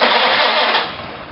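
A pony tractor engine fires up loud and close, a dense roar that settles slightly toward idle after about a second, with no voices.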